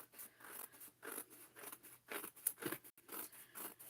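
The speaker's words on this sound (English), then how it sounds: "take our little scissors and just trim" Small scissors trim excess paper from the edge of a scrapbook page, giving a series of quick, crisp, close snips in an uneven rhythm, quiet and with no talking.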